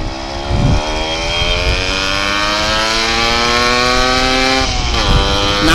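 A Yamaha RXZ motorcycle with an aftermarket silencer exhaust revs loudly, the engine note rising and falling in a strong, rasping two-stroke drone, close by and continuous.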